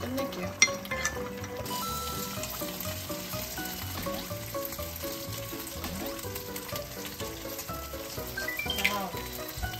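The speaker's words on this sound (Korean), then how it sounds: "바라라락 끓으면 달걀 넣고 끝낼게요" Shrimp soup bubbling in a pot, a steady close crackling simmer with occasional light clinks, continuous throughout under faint background music.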